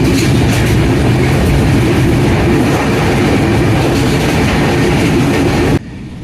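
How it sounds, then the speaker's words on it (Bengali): The Drutajan Express rolls along a line in northern Bangladesh with a loud, steady rumble and rhythmic clickety-clack of wheels, heard close up, before the noise drops off abruptly near the end. "এটা কোন ট্রেন?"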